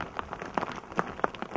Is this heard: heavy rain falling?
yes